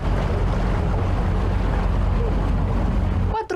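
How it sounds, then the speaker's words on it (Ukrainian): Police patrol boats on open water give a steady, loud motor drone with wind and water wash that runs without a break, then cuts off abruptly at the end. "патрулі на катерах моніторять водойми"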